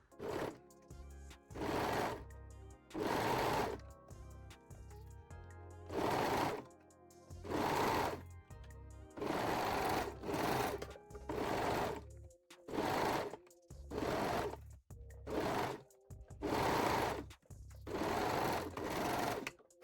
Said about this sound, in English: sew both longer sides using a serger or a zigzag or straight stitch if you like to